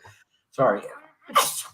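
One close, loud sneeze follows a short intake of breath, and a quick spoken apology comes right after it.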